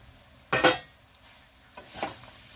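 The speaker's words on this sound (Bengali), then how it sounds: "এখন চিড়েটা দিয়ে দিচ্ছি।" Flattened rice (chira) is tipped into a pan of fried spices and curry leaves for homemade masala chira bhaja: a sharp rattling clatter, then a softer scraping stir about a second and a half later, close and otherwise quiet.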